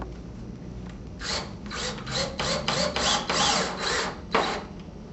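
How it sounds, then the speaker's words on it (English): A screw is driven through a shutter bypass track frame and drywall into a wall stud, giving a few rasping, grinding bursts of a driver close up over faint background noise. "And now we can insert our screw."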